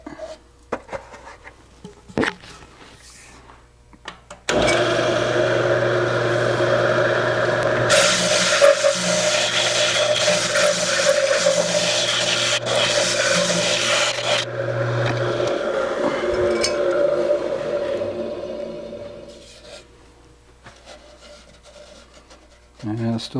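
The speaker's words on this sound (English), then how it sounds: "And then I guess we'll just sand it and leave it a little thick." A dawn redwood calabash-style bowl is sanded on a running lathe, a steady close whir and abrasive hiss that swells for about fifteen seconds, then fades as the lathe winds down, with scattered knocks before and after.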